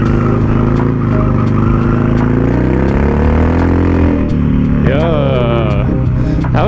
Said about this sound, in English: That was a clean drift.